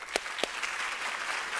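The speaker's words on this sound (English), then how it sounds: "a big round of applause" Audience applause at a graduate program capstone ceremony, dense, steady clapping from a crowd heard as a continuous hiss, with a couple of sharper claps standing out near the start.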